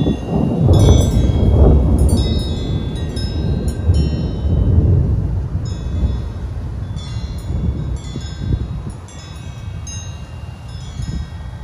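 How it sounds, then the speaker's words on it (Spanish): Deep rolling thunder rumbles loudly and continuously at night in Mexico, swelling and fading over several seconds, with faint rain and high chirps in the background. "es muy normal escuchar esta clase de truenos"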